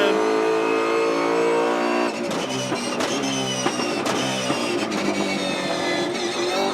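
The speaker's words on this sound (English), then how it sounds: "Dude, the sound of these cars is freaking wild." A NASCAR race car engine roars loudly and steadily, revving with rising and falling pitch as shifts cut through the dense, continuous drone from start to finish.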